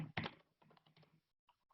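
Quick typing on a computer keyboard during bill entry in accounting software, a burst of soft, rapid key clicks with a brief louder thump at the start, fairly close and faint, with no talking.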